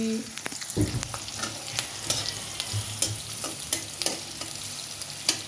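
Onion frying in a pan for a dried-fish curry, a steady close sizzle broken by clinks and scrapes of a spoon stirring, with no voices.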